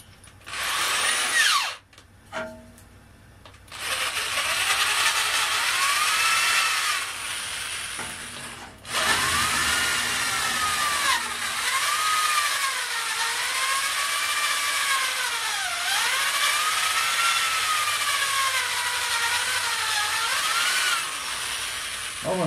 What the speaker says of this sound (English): I think maybe I'll use a different drill bit.